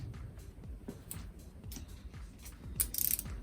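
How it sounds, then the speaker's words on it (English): Ratchet wrench tightening bolts on a Honda CX500 thermostat housing in a cafe racer build, giving repeated close clicking strokes at a steady working rhythm, ending in a quick burst of sharp ratcheting clicks. "so let's torque all this down"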